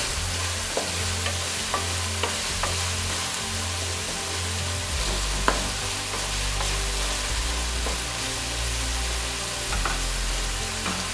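Keema minced meat frying in a pan with garlic ginger paste gives a steady, close sizzle throughout, broken by occasional scraping stirs and small pops, with no talking.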